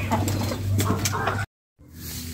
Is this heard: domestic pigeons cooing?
yes